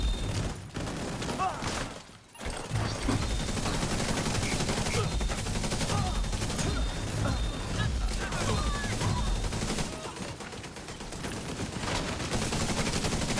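Two gun turrets trade sustained fire in a sci-fi shooter game, a dense, steady barrage of rapid shots with a brief drop near the start, then continuous loud firing throughout.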